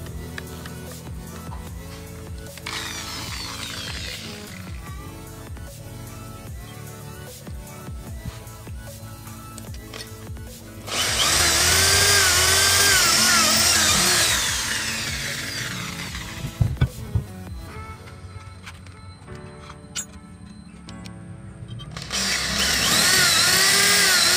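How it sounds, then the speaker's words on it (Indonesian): Loud whining power drill with a 4 mm bit runs in long bursts, biting into a speargun trigger mechanism part, with quieter stretches of motor hum and handling noise between. "finishing dengan bor yang 4 mili"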